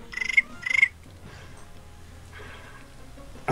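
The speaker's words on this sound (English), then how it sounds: "Let me get the crickets out." A crickets sound effect chirps in two rapid pulsing bursts, each a quick trill of clicks, followed by quieter faint chirping.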